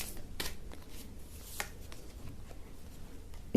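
Tarot cards are shuffled and a final card drawn, giving quiet papery riffles and soft snaps close by, a few sharper flicks standing out against a faint background.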